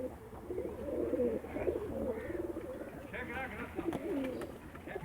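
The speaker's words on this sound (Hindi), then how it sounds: "चेक करें बहुत आला कबूतर रखे हुए इन्होंने के अंदर से" Pigeons in a loft coo in low, rolling, overlapping calls, steady and close throughout, with someone talking quietly over them.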